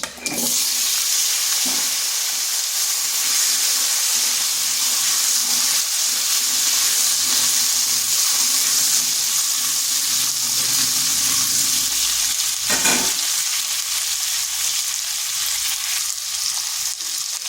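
Cut potatoes hit hot oil with black cumin, white cumin and dried red chillies, giving a loud, steady, close sizzle with a few brief stirring scrapes and no talking.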